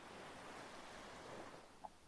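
Sea surf washes in as a soft, continuous broadband rush, faint and even with no distinct wave breaks and no voices.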